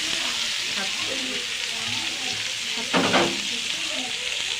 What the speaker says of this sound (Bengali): আমরা পরিমাণ মতো তেল দিয়ে দিয়েছি কড়াইতে এবং পেঁয়াজ কুচি দিয়ে দিয়েছি